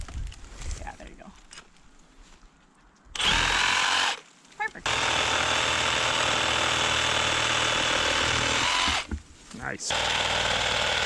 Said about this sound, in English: use the Sawzall and try to chop it up into manageable bits